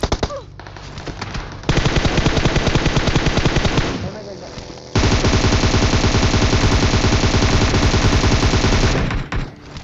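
Sustained automatic-weapon bursts in the battle royale game PUBG Mobile during a bridge block, loud rapid rattling fire in two long strings separated by a brief pause, with a voice faintly underneath.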